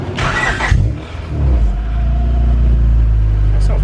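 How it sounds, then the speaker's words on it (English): A Honda Integra Type R exhaust idles close up with a loud, steady low rumble, following a brief burst of hiss and a short surge at the start. "Alright, here's the exhaust."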